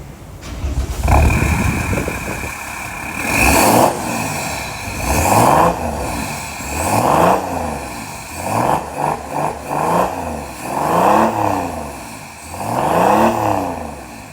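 A Mercedes E320 3.2 diesel engine with a remote-controlled performance exhaust revs repeatedly in bursts, each rise and fall roughly every one to two seconds, loud and close with a throaty exhaust note and no talking.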